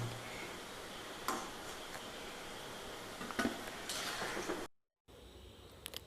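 Fried jackfruit fritters (kajjaya) being lifted out of a frying pan, with faint metallic clinks and ticks of a utensil against the pan over a low steady hiss, then a brief silence near the end.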